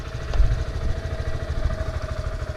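A 2018 Honda Grom motorcycle engine idles close by, a steady low putter with a faint whine on top and a slight surge near the start, with no talk.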